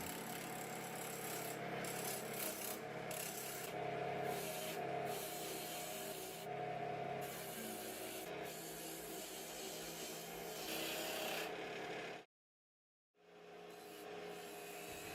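A bowl gouge cuts a wooden bowl blank spinning on a lathe, a steady rough hissing scrape with rhythmic pulses, running unbroken until a brief silence near the end before resuming.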